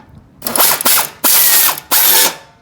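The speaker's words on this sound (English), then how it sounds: "Put my little ratchet on here." A small hand ratchet clicks through four quick bursts while tightening self-tapping screws into the frame of a self-propelled leaf blower, close and loud, with short pauses between strokes.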